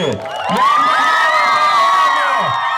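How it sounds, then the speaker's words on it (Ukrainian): A young crowd at a summer camp beauty contest cheers and shouts loudly for a prize winner, high excited voices and whoops blending into a sustained roar with little clapping evident. "І під вас гучні оплески!"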